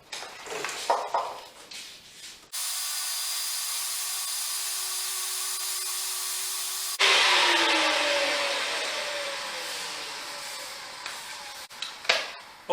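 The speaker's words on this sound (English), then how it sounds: "Got to sand this puppy up" A loud, steady power sander drones for several seconds, its pitch shifting as it sands a wooden charcuterie board, with handling noises before and after.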